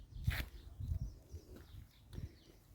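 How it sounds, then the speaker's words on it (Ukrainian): Pigeons or doves cooing softly in a village yard in spring, with a few faint calls and a brief wing flutter, fairly quiet and distant. "послухайте пташок"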